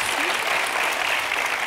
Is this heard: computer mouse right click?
no